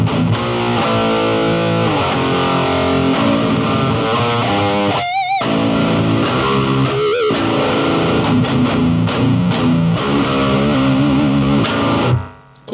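A distorted electric guitar through a Line 6 POD 2.0 amp modeler on a 1x12 cabinet setting plays riffs and chords with a heavy amp tone, loud and continuous, ending with a brief cutoff.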